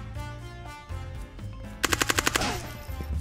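Rapid automatic gunfire from a rifle in the VR shooter Ghosts of Tabor, a quick burst of about seven loud close shots over game music and background noise, with no talk.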